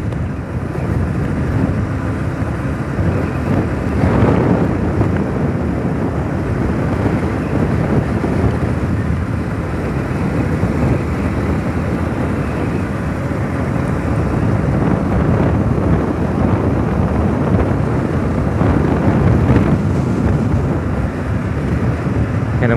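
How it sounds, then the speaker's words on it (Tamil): A strong wind suddenly gusts on a road trip between Parthibanur and Paramakudi, roaring steadily and loudly across the microphone for the whole stretch, with no talk over it. "காற்று பயங்கரம் அடிக்குது திடீர்னு"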